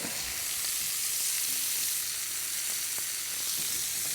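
Fish fillet frying untouched in a pan with butter and herbs like sage, rosemary or thyme, giving a steady, close hiss of sizzling fat that holds evenly throughout with no talking.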